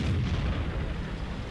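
Tank gun firing in World of Tanks: a single heavy boom with deep low-end rumble, loud and close, rolling out over about a second and a half.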